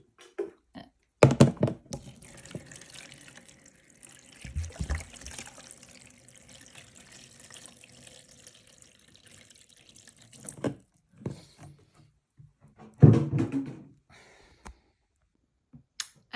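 Tap water runs and splashes in irregular bursts while paper is soaked for printmaking, with gurgling pours, drips and handling noises between quieter pauses.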